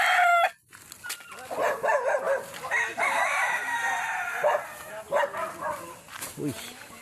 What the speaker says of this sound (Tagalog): Mga gandang manok ko